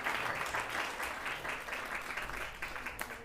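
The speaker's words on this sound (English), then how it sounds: "So, a big round of applause for all of you all." An audience at a temple gathering claps in a dense, steady round of applause that stays fairly distant and even, fading slightly toward the end.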